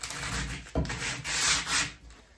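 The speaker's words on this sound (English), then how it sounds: "we're going to call that good enough with the 60 grit sandpaper" Wood being sanded by hand with coarse 60-grit sandpaper: close, raspy scratching strokes in an uneven rhythm, with one sharp knock partway through and no voices.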